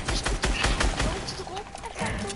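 Rapid bursts of automatic gunfire from the video game Fortnite crackle close and loud, mixed with a player's voice talking over the shooting.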